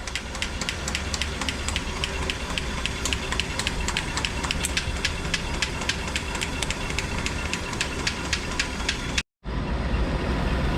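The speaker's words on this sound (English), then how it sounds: "the engine should run very nicely, very much like this one does now" A Rolls-Royce Phantom III engine idles steadily and loudly up close, its quick even valve ticking running throughout over a low mechanical hum, with a brief dropout near the end before it continues.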